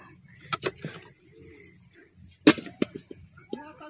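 Birds call outdoors in a few brief, scattered chirps, fairly faint against a steady background hiss.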